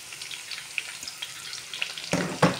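Garlic frying in a pan, following onions, while making egg fried rice: a steady soft sizzle with scattered crackles, growing louder and fuller near the end as the garlic is stirred in.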